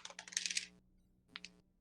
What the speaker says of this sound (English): roll a d20